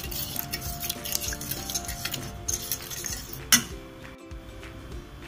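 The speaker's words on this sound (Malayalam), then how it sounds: "ഇനി ഇത് നന്നായിട്ടൊന്ന് മിക്സ് ചെയ്ത് കൊടുക്കാം." Spices such as cardamom and cumin powder stirred with a spoon in a bowl, giving a steady run of close, light clinks and scrapes with one sharper knock partway through.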